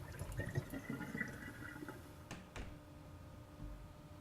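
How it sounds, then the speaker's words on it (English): Water runs from a tap turned on in the horror game Paranormal, a faint, steady trickle and splash in a quiet room, with a couple of sharp clicks partway through. "The water's turned on."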